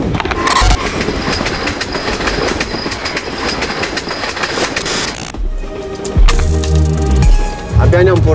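A train locomotive on the Chișinău–București route rumbles and clatters steadily up close, with a heavy low engine drone and rhythmic clanking growing louder toward the end.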